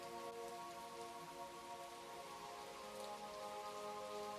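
Rain falls on the ground as a steady, soft, even hiss of countless droplets, faint and continuous with no voices.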